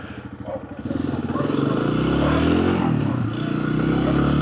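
A 2025 Lifan KPX 250 motorcycle's engine cranks and catches with a little throttle, the starter's rapid pulsing giving way to a loud, close, steady idle that swells slightly as gas is applied.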